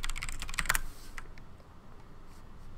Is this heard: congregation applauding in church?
no